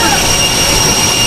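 Jet aircraft engine, likely a large presidential plane, roaring loud and steady with a high whine, a constant close wash of noise as the president boards in Florida.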